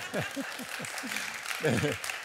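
An audience applauds at a Danish psychology lecture, a steady broadband patter of clapping running under a voice speaking over it.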